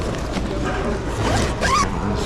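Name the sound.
zipper on an old bag being zipped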